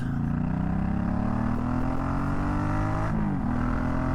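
A Suzuki Boulevard M50 motorcycle clicks into first gear and pulls away, its engine droning close and loud with a brief pitch dip and rise at the shift, no talking.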